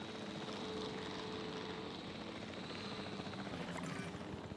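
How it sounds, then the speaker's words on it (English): In a Jurassic Park video game, a helicopter flies with a constant, steady rotor and engine roar. It stays even and moderately loud throughout, with no speech. "Oh my gosh, I have to fly the helicopter."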